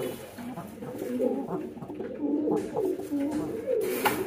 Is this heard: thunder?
no